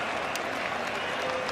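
Home supporters cheer and applaud at full time of a Melbourne Victory versus Wellington Phoenix A-League football match. The dense, continuous stadium ovation stays loud and unbroken throughout.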